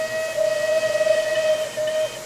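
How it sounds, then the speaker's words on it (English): Steam whistle of locomotive 35028 Clan Line, a single sustained, steady tone that holds for about two seconds with a slight break near the end, over a soft hiss. "So you can give us a whistle if you want."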